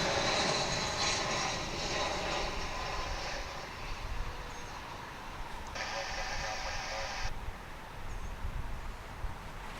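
An Airbus A319 airliner on American Airlines flight 2326 from Des Moines arrives at Dallas Fort Worth International Airport. Its engines make a steady, distant roar and rumble, and a voice talks faintly underneath.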